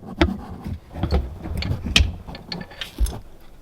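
An Allen key clicks and scrapes into the tensioner hole of a Lexus ES 350 serpentine belt, a few close, sharp metallic clicks and ratcheting taps in a quiet engine bay.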